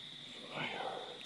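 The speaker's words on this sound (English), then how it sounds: "I can hear the creek running in the background. Tree frogs, crickets, and the sound of my fire." Crickets chirp steadily in a continuous night chorus beside a campfire at a camp near a creek. The sound is faint and even throughout.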